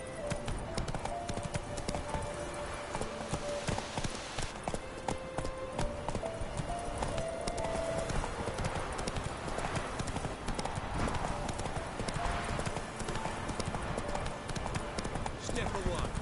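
Hoofbeats of Geralt's horse Roach galloping in The Witcher 3: Wild Hunt, a fast steady clatter running throughout, close and fairly loud over a busy game soundscape, with a voice speaking at times.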